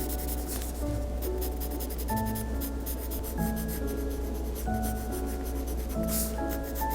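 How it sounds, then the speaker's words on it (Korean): Prismacolor colored pencil strokes on paper, soft scratchy rubbing in short repeated passes, close and quiet with no talking. "사과씨 주변에도 노란색을 은은하게 칠해줍니다."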